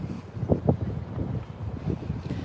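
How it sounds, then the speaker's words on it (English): Gusty wind buffets the microphone outdoors on the Southwest Washington DC waterfront, low rumbling bursts rising and falling with no voices. "it would be a really tough day today to be on the water. It's so windy."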